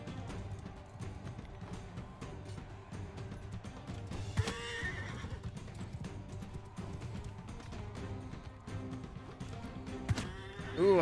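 A horse whinnies loudly amid busy Mount & Blade II: Bannerlord battle noise with hoofbeats and clatter, followed by a second shorter neigh near the end.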